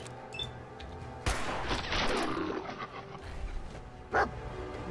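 Gunfire in the video game Fallout 4: a sharp shot bursts out, followed by a rumbling echo and a second short crack, all heard over low game background sounds.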